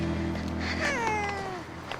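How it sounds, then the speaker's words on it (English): A grumpy hairless Sphynx cat gives a single drawn-out, falling meow, loud and close, ending in quiet after it. "Marie has arrived with her grumpy Sphinx cat for Banu's appointment"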